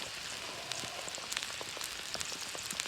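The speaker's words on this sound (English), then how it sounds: "Still raining. Always been raining." Steady rain from a storm patters across a surface at a wild camp on Dartmoor, with scattered brighter drops ticking irregularly over a constant hiss.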